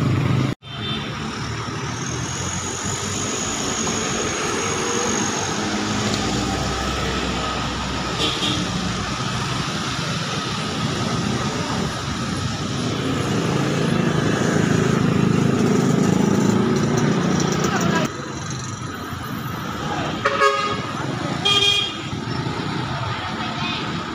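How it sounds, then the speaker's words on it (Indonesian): Steady motor traffic at a city bus terminal in Sibolga, Indonesia, heard as a continuous engine rumble with occasional short horn toots and people talking nearby. "hari ini kita berada di daerah terminal bus Kota Sibolga"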